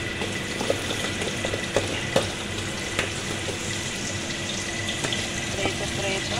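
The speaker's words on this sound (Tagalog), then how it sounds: "Prito natin ang carrots guys." Carrots frying in a pan, a continuous sizzling hiss with occasional sharp clicks and taps from stirring, steady throughout.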